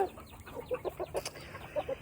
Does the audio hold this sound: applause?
no